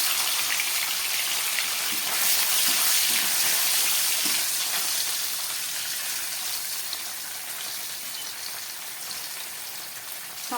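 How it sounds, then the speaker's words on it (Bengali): Paneer pieces sizzle steadily in white oil in a wok, a dense, even crackle close up that continues alone throughout and eases slightly toward the end. "এই তেলের মধ্যে আমি কেটে রাখা পনিরের টুকরোগুলো ভেজে নিচ্ছি।"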